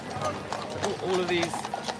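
Hooves of mounted Blues and Royals cavalry horses heading to Horse Guards Parade clip-clop on the road in an irregular rhythm, close by, with people talking over them.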